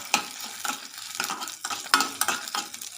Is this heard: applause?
no